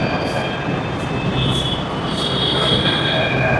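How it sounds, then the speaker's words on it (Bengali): A Jaipur metro train pulls into the station, its steady rumble and rolling wheel noise filling the space with high metallic squeal tones running throughout. "ওই দূরে ট্রেন দেখা যাচ্ছে, আমাদের ট্রেন আসছে।"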